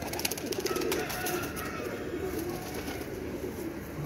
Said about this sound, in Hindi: अल्हम्दुलिल्लाह फिट एंड फाइन कबूतर हैं।